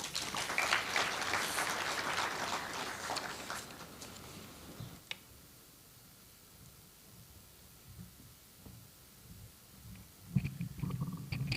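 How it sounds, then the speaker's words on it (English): An audience at a Supreme Court conference applauds, with dense clapping for about four seconds that fades to quiet room tone, then a few scattered claps and a knock rise again near the end. "Another round of applause for Honorable Mokaya."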